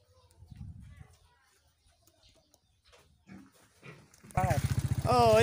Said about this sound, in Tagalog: Kaya alaga nilang baboy.